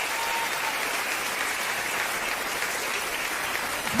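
Sustained, steady audience applause at a Catholic religious gathering fills all four seconds, dense and even with no voices on top.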